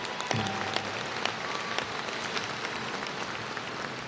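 Applause from the crowd at Sam Houston State University's fall 2019 commencement ceremony, a steady, fairly distant wash of many hands clapping that holds for the whole stretch.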